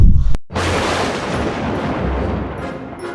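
A sudden thunderclap booms as an approaching storm hits near an outdoor swimming pool, then a loud, steady rumble rolls on for about three seconds with no talking.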